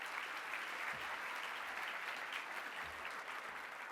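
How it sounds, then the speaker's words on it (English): Audience applause at an annual charity meeting, a steady dense clapping from a crowd filling the room, sustained at an even level for the whole stretch. "let's give her a big round of applause"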